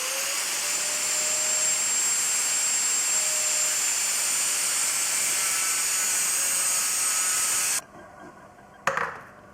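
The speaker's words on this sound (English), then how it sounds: "Now I've got the quad turned to the side and I'm about to cut the brackets off the bottom." A power tool whines continuously at high pitch while cutting metal brackets off the bottom of a quad frame turned on its side, loud and close for several seconds before stopping, followed by a brief clatter.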